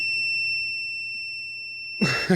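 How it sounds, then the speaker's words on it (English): A kitchen timer beeps with two steady high tones for about two seconds against a quiet room, then talk cuts in near the end. "it's the timer. Oh, we got to take the chicken out."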